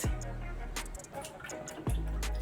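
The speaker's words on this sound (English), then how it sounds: "every day I take this little plant and swish it in the water bucket" An orchid plant is swished in a water bucket, making sloshing, splashing water sounds with drips in between, close up, with two stronger swishes at the start and near the end.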